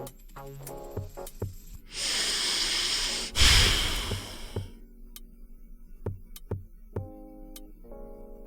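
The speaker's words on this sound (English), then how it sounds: "the breathing thing freaks me out" Breathing sound effect, a loud airy exhale-like rush lasting a couple of seconds followed by a sharper burst, with scattered ticks and clicks before and after.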